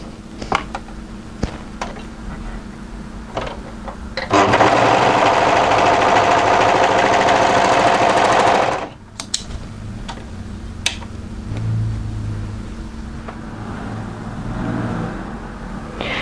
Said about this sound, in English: So I'm just going to overlock on the edge of that shoulder seam